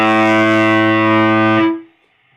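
An electric guitar through a Swollen Pickle MKII fuzz pedal with its internal trim pot turned fully right rings out a single loud, buzzy, mid-heavy sustained note that holds steady and then cuts off sharply.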